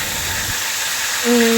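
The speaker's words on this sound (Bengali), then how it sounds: "ওই আস্তে ধীরে ভালো করে নেড়ে এটাকে ভেজে নেব" A katla fish head frying in a pan while being stirred, giving a steady broadband hiss and sizzle throughout, slightly louder in the last moments.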